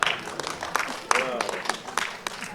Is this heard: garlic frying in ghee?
no